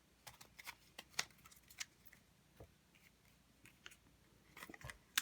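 Tarot cards are handled and drawn for a reading, giving soft, sparse snaps and flicks spread irregularly across a quiet room, each close but faint.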